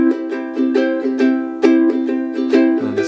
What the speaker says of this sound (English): in this version here, we're going to use a strumming pattern that sounds like this